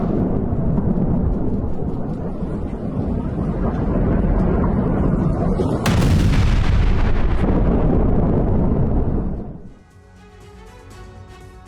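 Heavy bombing explosions in Beirut during airstrikes, a loud continuous rumble of blasts with a sharp, stronger burst partway through, then a sudden drop to a quieter, fading tail.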